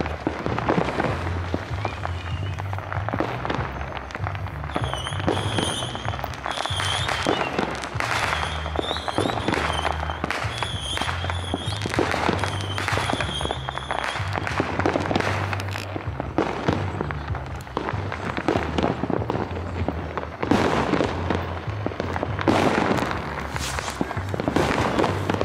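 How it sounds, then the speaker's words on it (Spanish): Fireworks burst repeatedly at a Christmas celebration in Moyobamba, a dense, continuous barrage of sharp bangs and crackles, loud and fairly near, with a few faint voices behind. "Escucha la gran explosión"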